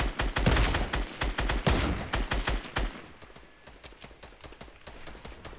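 Gunfire in Fortnite Battle Royale, a video game: rapid bursts of sharp shots, loud and dense at first, then thinning into scattered, quieter pops, with no talk.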